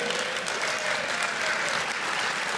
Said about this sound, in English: There you go, you can clap.